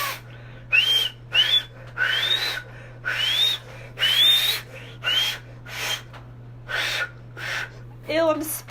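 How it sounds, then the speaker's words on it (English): A person whistles softly in a string of short, breathy bursts with small rising tones, close to the listener and separated by pauses, over a faint steady hum. "You can hear a baby whistle."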